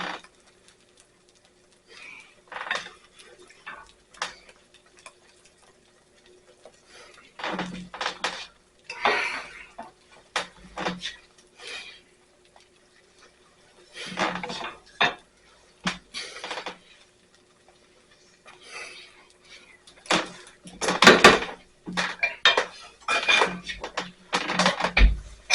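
Salisbury steaks go back into a pan of thickened sauce, marked by scattered clinks and scrapes of utensils against the pan that come in short bursts across a quiet kitchen without talk.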